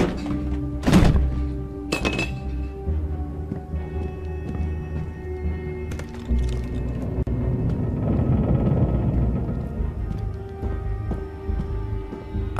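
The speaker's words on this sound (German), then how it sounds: "Hier so einen Schraubstock. Den hauen wir dann dem Typ über den Schädel" A heavy vise slams against a man's head in the video game Beyond: Two Souls, a loud blunt thunk followed by a second hit and then a low rumbling game score.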